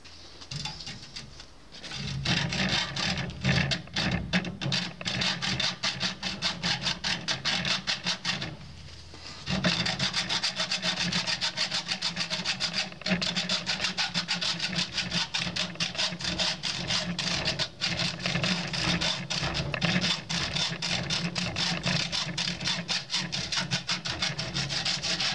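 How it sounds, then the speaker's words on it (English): Hacksaw cutting through an aluminum copper radiator, a steady run of rapid scraping strokes that stays loud and close for most of the clip, with one short pause partway through. "I'm going to try cutting right down here with the hacksaw"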